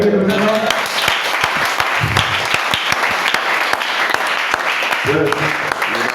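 Church congregation applauding to acclaim the Lord, dense sustained clapping from many hands close by, with voices calling out at the start and near the end.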